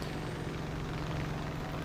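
A plane's engine drones steadily in War Thunder Mobile, a dense, even roar with a faint low tone and no speech.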